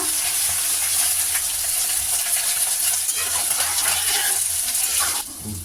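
Water poured into a pan of frying tomato, turmeric and spices, giving a loud steady hiss and sizzle with a bubbling, splashing wash that runs for several seconds before dropping away abruptly near the end.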